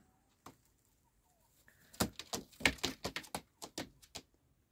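Pigeons in a dovecote coo and flutter close by, a quiet stretch giving way to a busy run of repeated soft coos and wing movement.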